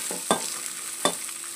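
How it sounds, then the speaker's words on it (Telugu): Dried coconut fries in a pan with a low, faint sizzle. Two brief scraping stir strokes sound close by, and no voices are present. "చక్కగా అనమాట మాడిపోకుండా ఫ్రై చేసేసుకోవాలి"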